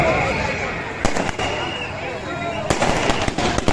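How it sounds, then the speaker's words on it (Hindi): Fireworks crackle and pop in bursts over a steady crowd murmur, with a sharp cluster of bangs partway through, at the Shri Krishna Sharad Purnima festival in Jawad, Neemuch district, India. "शानदार आतिशबाजी"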